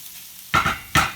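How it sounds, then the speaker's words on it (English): Farro hits a hot pan and is tossed twice, each toss giving a close, loud rush of sizzling grains that fades quickly between strokes. "So I'm going to go ahead and add my farro right to the pan. Give it a nice toss around."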